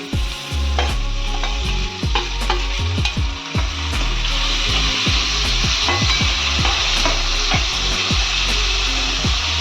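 Tomatoes hit hot oil in a frying pan while cooking Rajasthani-style dal baati, giving a loud, steady sizzle broken by repeated stirring clatters, with no talk.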